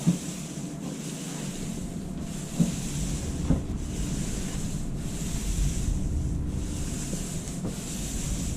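Light hand sanding on a kitchen cabinet surface during a paint job, a continuous soft rhythmic rubbing with repeated back-and-forth strokes, close and fairly loud.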